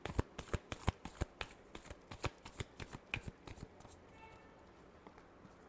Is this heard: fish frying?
no